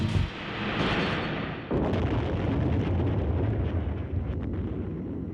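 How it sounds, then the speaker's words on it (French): A massive blast from a munitions ship loaded with about 4,000 tons of bombs rumbles as a dense, roaring wall of noise, building, then sustaining with crackling debris and continuous low thunder. "Une explosion massive."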